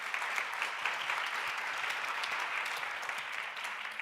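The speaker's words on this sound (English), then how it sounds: "So let's give them a round of applause first." An audience at a food and brews panel discussion applauds the panel members with steady, dense clapping that holds at an even level throughout.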